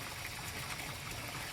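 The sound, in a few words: water gushing from a newly drilled deep well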